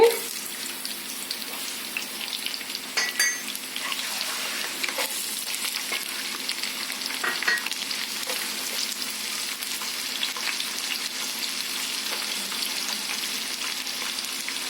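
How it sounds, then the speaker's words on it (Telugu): Chopped onion pieces crackle in hot oil tempered with whole spices for a potato tomato curry, a dense continuous sizzle heard up close and alone for the whole stretch. "వేడయ్యాక మనం కట్ చేసుకున్న ఉల్లిపాయ ముక్కలు వేసుకోవాలి"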